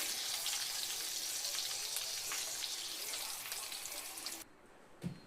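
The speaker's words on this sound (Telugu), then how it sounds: "వామ్మో ఎగిరి పడుతున్నాయండి అవి. ఇంకా కరివేపాకు కూడా వేసానండి." Curry leaves fry in hot oil for a chicken biryani, giving a dense, steady sizzle with crackling pops that fills the scene close up, then cuts to quieter background with one brief knock near the end.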